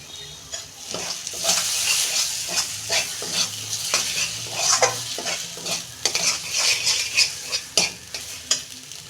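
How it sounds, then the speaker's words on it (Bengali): Pointed gourd mash is stirred and fried in a pan, with a soft steady sizzle and repeated scraping strokes of the spoon at an uneven rhythm, close and moderately quiet. "আর দু মিনিট একটু নেড়ে চেড়ে ঢেলে ফেলবো"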